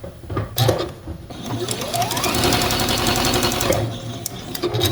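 A sewing machine stitches down a quilt block of chained rectangles for a snowman quilt, running in a steady continuous whir with a brief start and pause at the beginning, close and fairly loud with no talk.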